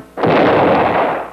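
A big cartoon gun fires one booming shot that bursts in loud and close after a brief quiet moment, then rolls on as a broad, sustained blast for about a second without fading much.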